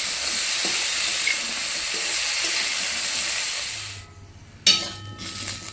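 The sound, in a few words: jackfruit frying in mustard oil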